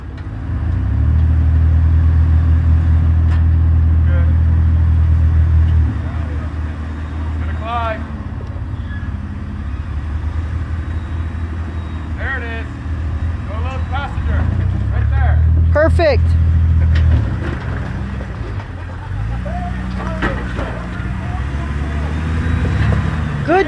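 A Jeep engine revving loudly in surges as it climbs the rocky Fordyce trail, its low drone swelling and easing while people talk and cheer over it.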